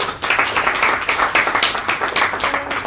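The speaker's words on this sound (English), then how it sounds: "can we applaud for you all?" An audience at a panel discussion on entrepreneurs claps loudly and close, a dense, uneven burst of applause with a few sharper individual claps.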